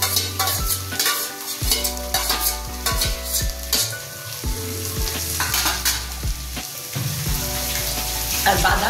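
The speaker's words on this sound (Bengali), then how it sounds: "সব কিছুতেই একটু একটু নুন দিয়ে ভাজছি।" Beans, carrot and shredded cabbage with salt fry and sizzle in a pan for masala noodles, stirred repeatedly with scraping utensil strokes and clinks throughout, close and steady with no talk.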